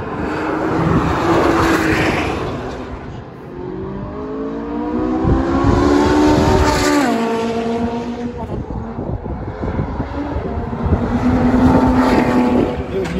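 A Nissan GT-R race car drifting on a track, heard as a loud engine roar that rises and falls through gear changes and sustained slides, with wind-like noise over the top.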